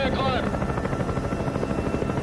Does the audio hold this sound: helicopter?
yes